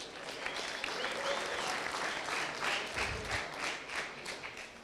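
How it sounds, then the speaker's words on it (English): Audience applause at a tech demo showcase event, a steady round of clapping from a moderately sized crowd, somewhat distant and sustained, with faint murmurs and a voice briefly heard within it. "Another round of applause for S4G."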